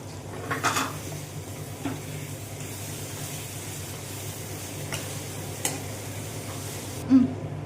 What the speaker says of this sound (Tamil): ஒரு கிலோ கனவா சேர்த்துக்குறோம்